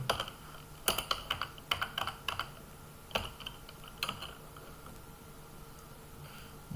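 Clicky typing on a computer keyboard while writing Python code, with quick bursts of keystrokes broken by short pauses, close and fairly quiet.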